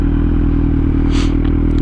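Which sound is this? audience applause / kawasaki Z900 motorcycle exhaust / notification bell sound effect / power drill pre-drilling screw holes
kawasaki Z900 motorcycle exhaust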